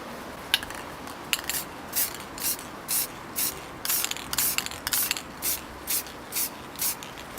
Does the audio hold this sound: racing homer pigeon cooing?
no